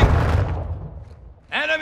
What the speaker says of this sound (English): Flash incoming!